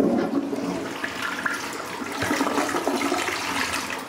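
A low-flow, water-saving household toilet flushes in one continuous rushing, gurgling surge of water that stays close and loud for about four seconds, with no voices.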